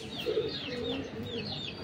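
Pigeons in a loft give soft, low cooing murmurs against a steady background hum, with a few thin higher chirps drifting over the top.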